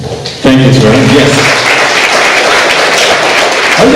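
Applause from a remote audience at a fall open house streams in as a dense, continuous clatter of many hands, with a voice talking over the first part.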